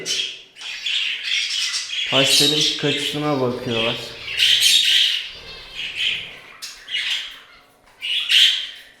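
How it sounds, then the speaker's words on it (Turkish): A budgerigar in a bird room gives loud, repeated harsh squawks and chirps in bursts, calling out to other birds, while a person talks briefly in the middle. "aynı zamanda diğer kuşları da duyduğu için onlara da bağırıyor"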